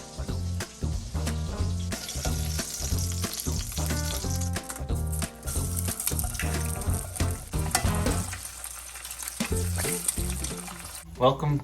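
Eggs and sausage frying in a pan, a crackling sizzle under a strongly rhythmic, music-like pattern of repeated pulses before the sound drops away near the end.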